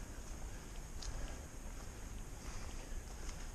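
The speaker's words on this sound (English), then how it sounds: "but just nice and comfortable wind" Breezy wind on a mountain section of the Appalachian Trail, a faint, steady broadband rush buffeting the microphone without pause, no voices.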